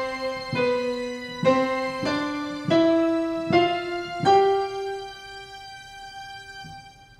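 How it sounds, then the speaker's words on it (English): An Oberheim Butter analog synth string pad, pitched up an octave, plays a warm sustained chord progression with six chords struck in a slow even rhythm. The last chord fades into a soft tail, clean and solo, with no voices. "This is an analog synth kind of string section. It's called Oberheim Butter."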